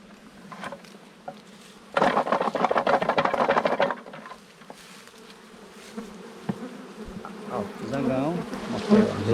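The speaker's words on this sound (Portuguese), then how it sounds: "Zangão. Zangão." Drone bees buzz around wooden hive boxes in a forest, a dense loud swarm drone for about two seconds that then thins to scattered close buzzing passes and wing flutters.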